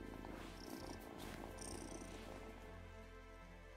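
A cat in the Wylde Flowers video game purrs softly and continuously in a steady, low rumbling rhythm, heard alone at close range.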